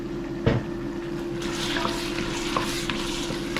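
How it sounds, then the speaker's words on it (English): Onions and tomato frying in a pot make a steady sizzle and bubbling, with a stir knock near the start and soft scraping and clinks throughout, close and moderately quiet. "Let it fry for like a minute"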